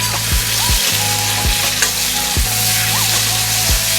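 Chopped tomatoes fry with onions in a hot pan, a loud continuous sizzle broken by several sharp scraping stirs of a spatula, with no talking.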